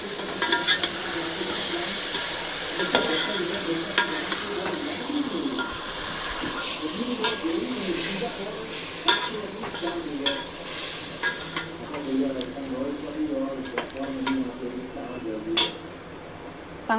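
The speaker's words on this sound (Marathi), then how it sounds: "तर आपलं मॅरिनेशन केलेलं चिकन टाकूयात।" Marinated chicken for biryani sizzles and fries in a pan with tomato and whole spices while a utensil stirs and scrapes it. The scraping comes repeatedly and close, with a faint voice briefly in the background.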